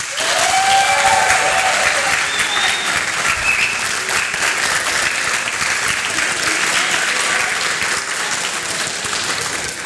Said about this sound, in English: Round of applause if you think that was the best one.